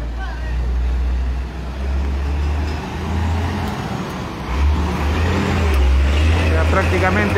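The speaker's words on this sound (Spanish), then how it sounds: "ahora empiezan a pasar a Selva Central ya los carros" Cars and trucks rolling past on the road toward Selva Central near Tarma as traffic resumes at night, a continuous loud low engine drone with passing swells, and a voice talking over it.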